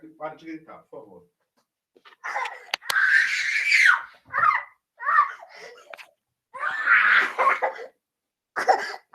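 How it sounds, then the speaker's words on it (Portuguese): Someone shouts at home during an online class, loud high-pitched vocal bursts separated by short silences, close to the microphone. "Então, para de gritar, por favor."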